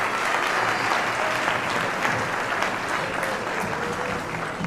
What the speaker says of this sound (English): give them a round of applause for their everyday help